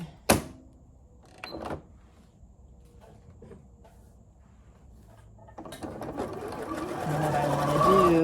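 A home sewing machine stitching a bar tack along a blouse seam: a couple of sharp handling clicks first, then the motor whirs up and runs steadily louder, with a faint voice briefly in the background.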